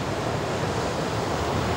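Ocean waves surge and break near a Hobie Cat catamaran sailing spot beside the Hook, a steady, close roar of surf with wind noise and no voices.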